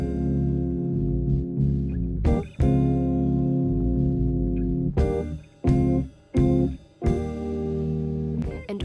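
A song playing: sustained harmonic chords with steady bass, broken by several sharp rhythmic stops and restarts, loud and close with no talking over it.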